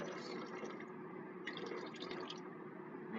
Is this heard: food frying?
no